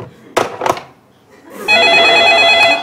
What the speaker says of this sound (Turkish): Bir daha alalım mı zil sesini?